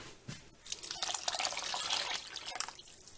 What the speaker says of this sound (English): I'm going to add in as much water as I can.